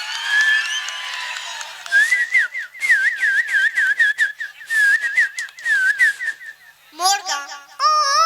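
A voice whistles an imitation of a koel's call as a fast, repeated warbling trill, loud and close. Brief chirpy squeaks from a vocal imitation follow at the end.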